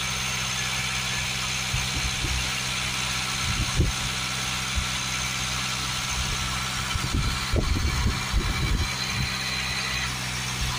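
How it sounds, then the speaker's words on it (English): A Land Rover Discovery Sport 2.0 diesel engine idles steadily, a low continuous rumble with faint vibration and occasional light knocks, heard close with no talking. "We'll spray some fluid straight through while the engine's running."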